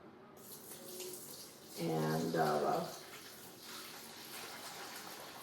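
Warm water running from a kitchen tap into a container for sourdough dough, a steady rushing stream close by under faint background noise, with a brief spoken word.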